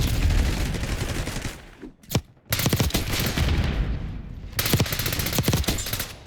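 Rapid automatic gunfire from the Call of Duty: Black Ops 6 video game rattles in dense, loud bursts, breaking off briefly before resuming with sustained fire and individual shots near the end.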